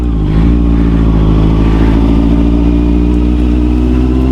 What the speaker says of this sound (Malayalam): വണ്ടി നിറയെ വെള്ളമായിട്ട് പോകുന്നുണ്ടോ